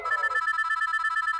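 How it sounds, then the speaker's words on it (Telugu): A telephone rings with a rapid trilling electronic bell, loud and close, with no voices over it. "నాకు ఫోన్ వస్తుంది."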